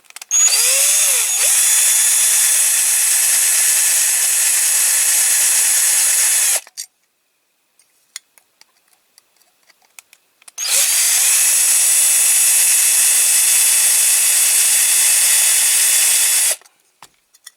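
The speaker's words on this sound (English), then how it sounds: "Drill them a bit more" A power drill whines loudly in two long runs of about six seconds each, separated by a pause with small clicks and taps, while restoring a Matchbox Kingsize Scammell tipper toy truck.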